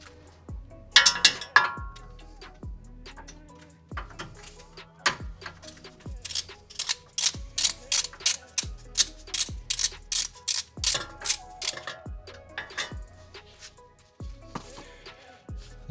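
Hand ratchet turning out an E8 Torx bolt from the rear wheel knuckle of a 2011-2017 Chevy Caprice PPV, with steady repeated clicking pawl strokes and a low clunk at each swing, close and moderately quiet.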